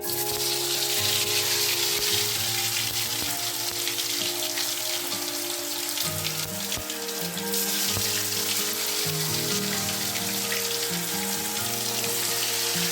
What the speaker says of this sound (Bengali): মুঠাগুলো এবার আমি এক এক করে তেলে ছাড়বো।